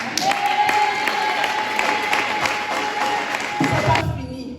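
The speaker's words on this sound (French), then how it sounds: "Je voudrais qu'on acclame et je m'arrête là." A church congregation applauds and cheers during a worship service, dense sustained clapping with crowd voices and a shout rising over it before fading out.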